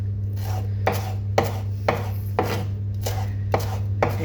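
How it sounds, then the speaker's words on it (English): A knife chops coriander roughly on a board, about eight distinct, evenly spaced thuds over a steady low hum. "very, very rough chopped coriander"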